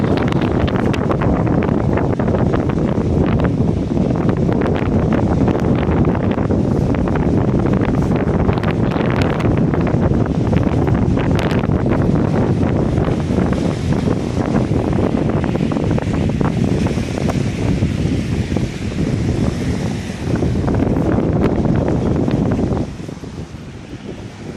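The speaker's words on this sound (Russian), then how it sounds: "Вот такие волны, как морские." Strong April wind buffets the microphone at a Dnipro river beach while waves wash ashore, a loud, continuous roar of gusts and surf that eases slightly near the end.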